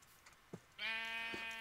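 A sheep in a modded video game lets out a single drawn-out, wavering bleat after a couple of faint clicks, heard clearly and alone.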